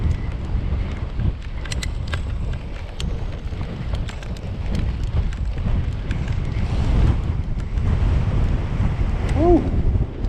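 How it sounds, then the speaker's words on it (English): Strong wind buffets the microphone during an outdoor bike ride climbing through open, exposed countryside in the Vale of Clwyd, a steady loud roar throughout with a brief whistling tone near the end. "wind's almost stopping me."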